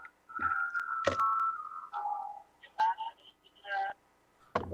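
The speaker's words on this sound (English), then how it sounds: "Oh, my cell phone just went off." A cell phone goes off during a city government meeting, sounding a few short electronic ringtone tones and beeps, up close with brief pauses and a sharp thump at the end.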